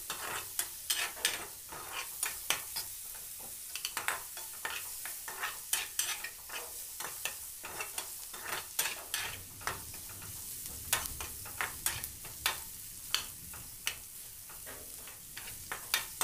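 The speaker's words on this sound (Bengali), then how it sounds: "পেঁয়াজটার মধ্যে একটুখানি ম্যাগি মশলাটা অল্প একটু দেবো, দিয়ে একটু নাড়াচাড়া করবো" Onions frying in a pan with a little Maggi masala, stirred now and then, giving a steady soft sizzle under repeated sharp scraping clicks of a spoon against the pan, close and alone.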